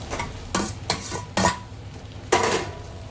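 A spoon scrapes and stirs boiled chopped potato into cooked green masala in a pan, making several distinct clanking strokes over a soft sizzle, close and without speech.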